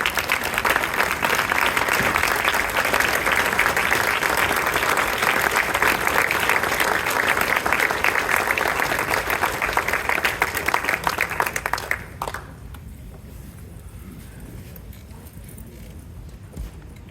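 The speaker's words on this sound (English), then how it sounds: "can we give this fine lady a standing round of applause?" A banquet crowd gives a standing ovation at an interfaith dinner, dense sustained applause filling the room for about twelve seconds before cutting off to quiet room tone.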